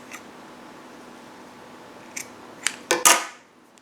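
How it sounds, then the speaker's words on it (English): Scissors snipping loose yarn ends on a crochet bag, a few quick, close cuts at the end of a quiet stretch, growing louder with the last two snips. "I'm going to go ahead and cut those ends"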